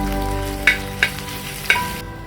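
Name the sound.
crushed ginger garlic frying in oil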